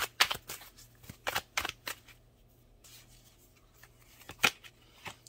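Tarot cards being drawn and shuffled close up, giving a run of crisp, papery riffles and snaps in irregular bursts with quiet gaps between them.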